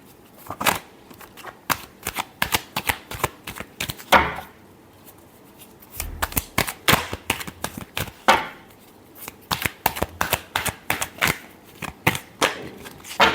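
Tarot cards are shuffled by hand in a series of crisp, rapid riffles and slaps that come in bursts with short pauses between them, close and clear with no speech.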